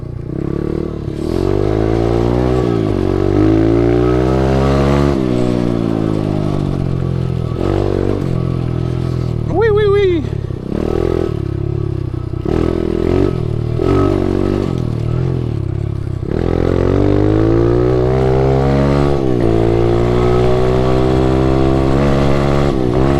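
An SSR125 pit bike engine revs hard while riding, droning loud and close with pitch rising and falling through gear changes, plus a brief high rev spike and clattering over trails.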